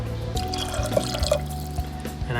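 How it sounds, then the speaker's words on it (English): More water trickles and splashes into a pot of Sindhi lentil dal, a continuous close pour with small drips over a low, tonal background hum. "We're gonna add a bit more water."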